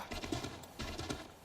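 A horse in the video game Assassin's Creed 3 trots with a steady, rhythmic clip-clop of hooves, moderately loud and close, with no talking over it.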